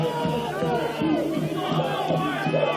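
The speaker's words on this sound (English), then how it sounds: "The Hartpury faithful cheering loud on that far side in the main stand." Rugby fans of Hartpury cheer loudly in the main stand on the far side during a BUCS university championship semi-final against Bath, a steady crowd roar with shouts blended with commentary.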